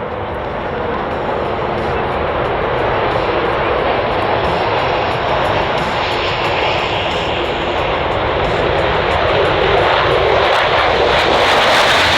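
Loud, sustained roar of an RAAF F/A-18F Super Hornet jet flying at the Australian International Airshow, a broad, steady engine rumble and hiss that fills the whole stretch.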